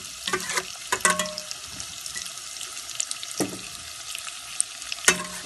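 A beet and carrot filling mixture, salted, is stirred in a pan with a soft background sizzle, punctuated by several sharp scraping and clanking strokes of the spoon against the pan.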